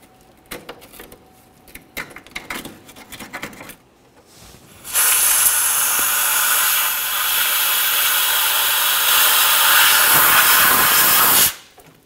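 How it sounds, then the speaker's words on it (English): Compressed air blasts steadily for several seconds, blowing scraped debris out of the rear frame area near the leaf spring bump stop on a 1999-2006 Chevrolet Silverado 1500, loud and continuous, following quieter scraping and handling noises. "We're just gonna scrape it away and then use some compressed air"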